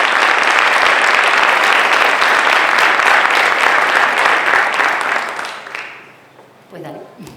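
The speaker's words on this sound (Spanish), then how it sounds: "Un aplauso para ellos." Audience at a skills-competition workshop applauds the presenters, loud sustained clapping for about five seconds that tapers off, followed by a brief voice.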